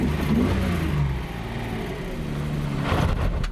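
A Nissan Z car's engine runs as it drives off, a steady mid-pitched hum and whir close by that swells slightly near the end, with no talking.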